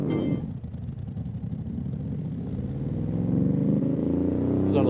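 A car engine in BeamNG revs and drones steadily during a poor launch, rising gradually in pitch and loudness as it accelerates, with no talking over it.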